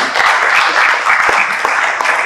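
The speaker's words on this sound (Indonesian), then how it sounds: "Tepuk tangan dulu untuk kita semua" A church congregation claps together, a loud, close burst of applause with distinct individual hand claps popping through the steady rattle, running without a break.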